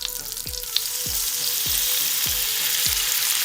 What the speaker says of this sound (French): Quand on a mis tout bien les gyoza dans la poêle, on laisse légèrement un peu frire.